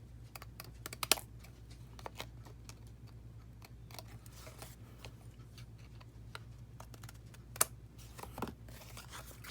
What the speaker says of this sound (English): take my scissors and just trim it off so it's flush with the edge of the panel